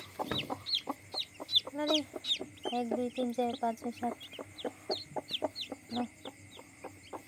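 A hen clucks over and over in short, sharp bursts close by, with other fowl calling in the background.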